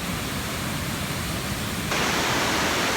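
Tat Chanan Waterfall near a stone bridge in Seka, Bueng Kan, Thailand, roars as a dense, unbroken rush of falling water that fills the clip, growing slightly louder and brighter partway through.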